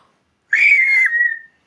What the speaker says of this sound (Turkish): Düdük çal.